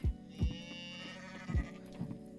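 Sheep in the farming video game Coral Island give a few short, soft bleats with thumping beats between them, quiet and without talk.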